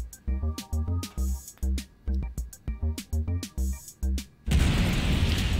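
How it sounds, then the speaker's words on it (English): SAS-3 missile launched in a Star Citizen-style space combat game against a Caterpillar ship, heard as a rapid series of sharp booming impacts and pops for about four seconds, then a sustained loud roaring explosion rush, with no talking. "And we are shooting one SAS-3 missile"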